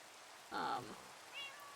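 Short meow from a cat in Minecraft, one clear call at moderate level over soft rain ambience, followed by a faint higher chirp.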